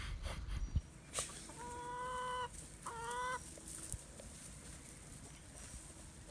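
Chickens clucking nearby, including a broody hen, with a run of clear stacked calls in the middle and quieter farmyard sounds before and after.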